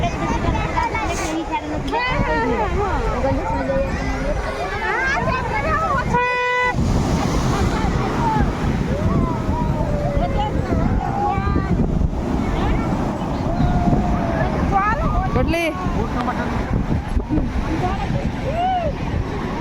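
Sea waves wash steadily at Puri beach, a continuous broadband roar with wind buffeting the microphone and people talking nearby throughout.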